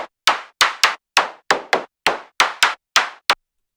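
Punchy electronic percussion hits with an LFO sweeping the filter cutoff, about a dozen sharp close clap-like strikes in an uneven rhythm, each tone slightly different, ending after a final hit.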